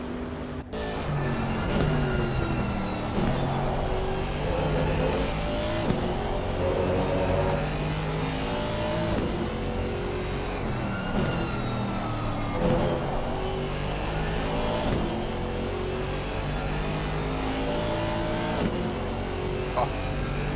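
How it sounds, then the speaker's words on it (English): A loud, high-revving V8 racing engine in Assetto Corsa Competizione roars continuously, pitch sweeping up and down through gear changes, with a commentator's voice underneath. "Lovely V8 sound there."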